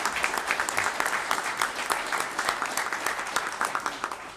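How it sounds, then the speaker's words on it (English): Applause from a small press conference audience, a dense patter of many hands clapping steadily at moderate volume throughout, with no talk over it. "So give Secretary Preston a round of applause."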